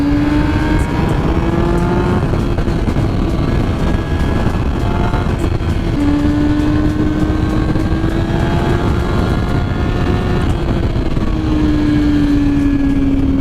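Kawasaki ZX6R motorcycle riding off-road, its engine droning steadily with gradual rises in pitch through the gears and wind rushing, close and loud, no talk.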